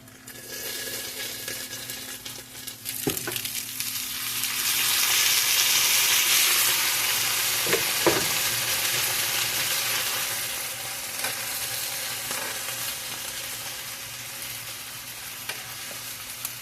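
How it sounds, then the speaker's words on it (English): Sausages sizzle steadily in a hot pan, a constant crackling hiss with a couple of sharp utensil clinks. "Put our sausage back in there and let them finish frying."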